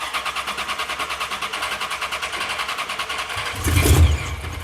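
A supercharged Corvette V8 runs rough, its uneven, pulsing idle loping steadily up close before a louder, heavier burst near the end.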